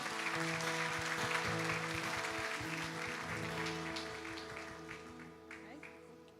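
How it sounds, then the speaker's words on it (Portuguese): A church congregation applauding during a worship service, clapping that swells then gradually fades while organ or keyboard chords sustain underneath and a few voices call out. "Você pode aplaudir o Senhor?"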